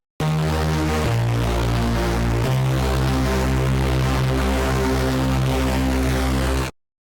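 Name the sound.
synthesizer with distortion effect, Runo SATURN V VSTi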